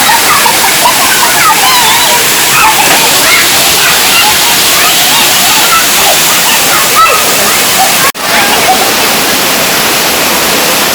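Rampa Waterfall in Andhra Pradesh pours down from about 50 feet, a loud, steady, close roar of falling water that fills the whole stretch without pause, with faint voices buried in the wash.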